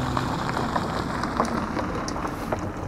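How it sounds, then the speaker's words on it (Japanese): Heavy rain falls outdoors at the Matsukawa derailment incident site in Fukushima, a dense, steady hiss with scattered close droplet taps throughout, continuous and without pauses. "雨すごいね。"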